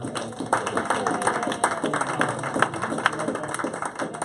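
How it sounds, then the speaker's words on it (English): Moderate applause from a congregation at an Episcopal church annual meeting honoring retiring vestry members, steady claps under some voices in a room. "Let's give them a round of applause"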